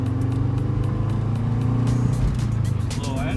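A Subaru WRX engine fitted with a lightweight crank pulley drones steadily up close. Its low tonal exhaust note holds throughout, with a slight rise in pitch toward the end.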